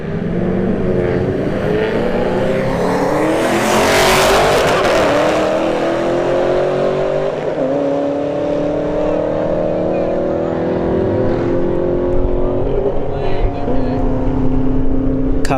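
A Golf and a Camaro launch side by side on a drag strip at Bradenton Motorsports Park, loud engines revving hard with rising gear-shift tones and a brief burst of noise near the start, fading as they pull away under occasional speech.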